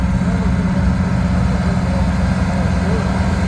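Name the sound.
International tractor engine idling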